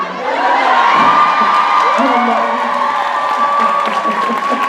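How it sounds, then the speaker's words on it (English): A convention panel audience at CharCon bursts into loud, sustained cheering, whooping and applause, a dense close crowd roar that holds steady throughout. "First time ever they've been roundly applauded."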